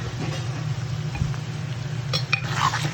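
A spoon scrapes and knocks softly in a pan as a potato, brinjal and raw mango curry is stirred, over a low steady hum, with a couple of brief metallic clinks near the end.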